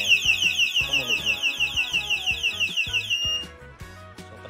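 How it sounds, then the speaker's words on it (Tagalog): A security alarm on a Toseek R Type aero road bike goes off after the bike is shaken, giving a loud, rapidly repeating electronic chirp that pulses for about three seconds and then cuts off. "device lang to para ma-disarm yung alarm niya"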